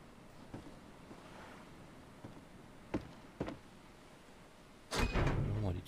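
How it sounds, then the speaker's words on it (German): A door swings open in the survival game Stranded Deep, a sudden rushing burst near the end that follows soft wind and surf ambience with a few faint knocks and creaks. "Tür auf."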